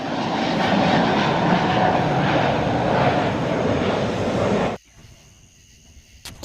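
Toy airplane sound effect, a loud steady roaring engine drone with no talk that runs for nearly five seconds, then cuts off abruptly into near silence with a faint tail.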